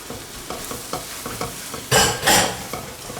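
Eggs being stirred into hot milk and ghee in a pan, a sizzling, scraping stir with soft repeated strokes, then two louder bursts of frying hiss close by.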